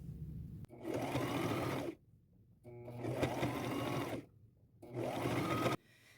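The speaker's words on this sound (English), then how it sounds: "I am going to go down that line with a straight stitch so that it doesn't flip up and do weird things" Three separate bursts of a sewing machine running a straight stitch along a fabric and lace tote bag, each lasting one to two seconds with short quiet pauses between.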